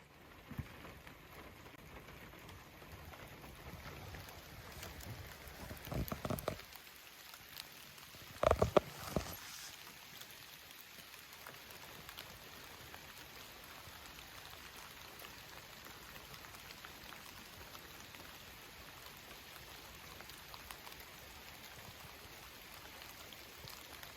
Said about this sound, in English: as you can hear, there's rain coming down pretty good now